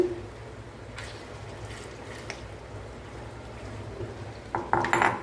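Spoon stirring mango tomato curry with masala in a cooking pot, soft scraping and liquid sloshing with a few sharp metallic clinks near the end, close and moderately quiet, with no talk.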